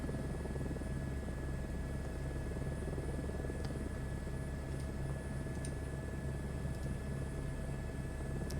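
Simulated helicopter on a Grand Canyon air tour in Microsoft Flight Simulator 2024, a steady droning rotor and engine hum, continuous and even throughout with no talking.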